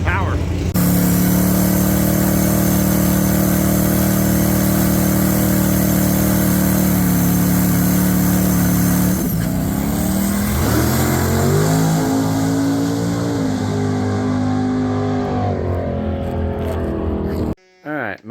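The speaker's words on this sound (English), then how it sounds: "So first rip of the year, but the car went nice and straight." Drag race car making the first run of the season at a racetrack, a loud sustained engine roar with rising revs through the launch and pass, then winding down and cutting off near the end.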